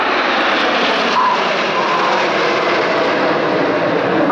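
Jets of an aerobatic display team roar overhead during the Vixen roll at RAF Cosford, a loud, steady engine wash that stays constant throughout with no talk.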